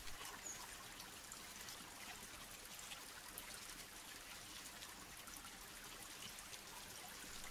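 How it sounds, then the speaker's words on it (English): Water gently trickling and rippling at a desert oasis, a soft, steady, continuous flow heard faintly and alone, with no voices over it. "the water ripples gently"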